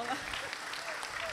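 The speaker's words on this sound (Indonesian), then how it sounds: "Oke, tepuk tangan Bu ya." Brief burst of clapping from a seated audience at a Quran graduation ceremony with a religious talk, a soft patter of hands heard from a short distance, lasting only a moment.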